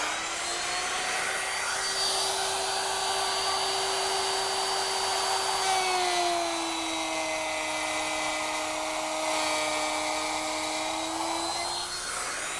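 A router fitted with a 1/2 inch bit cuts a groove while guided along a T-square, giving a steady high whine that holds for about twelve seconds and dips slightly in pitch partway through as the bit loads up.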